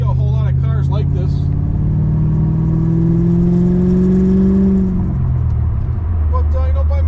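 A 1989 C4 Corvette engine drones under a voice while driving, its pitch rising steadily as the car pulls, then dropping as revs fall near the end, loud and close inside the cabin.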